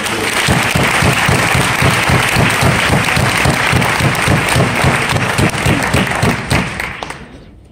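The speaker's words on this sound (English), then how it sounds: "Let's have a round of applause for our 2017 Kathy McDonald Diversity Award winner." An audience gives loud, sustained applause for the 2017 Kathy McDonald Diversity Award winner at a college special event. Dense clapping fills the room near the listener, then fades out at the end.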